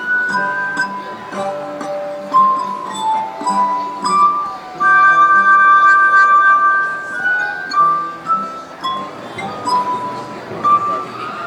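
A glass harmonium plays at a festival, sustained bell-like glassy tones forming a slow melody, ringing notes overlapping and fading, heard close and clear.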